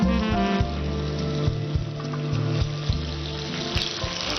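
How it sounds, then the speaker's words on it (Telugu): Boiled toor dal pakodas deep frying in hot oil, giving a steady, bubbling hiss that runs throughout beneath a low, even hum. "సో ఇవి మొత్తం డీప్ ఫ్రై చేసుకోవాలన్నమాట."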